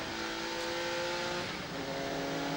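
A Lotus Esprit GT race car laps the tight Silverstone South circuit, its engine holding a steady, sustained drone with shifting pitch as it accelerates, loud and continuous throughout.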